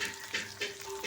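Tomato and fenugreek leaf curry frying in a pan, a steady close sizzle with soft stirring pulses recurring a few times over a brief moment.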